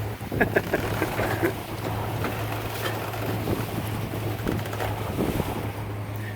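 Wind and churning water roar steadily as waves crash over the back of a shanty boat in rough weather, with splashing surges and a low engine drone underneath; a voice is faintly present.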